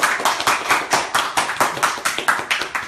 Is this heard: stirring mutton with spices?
no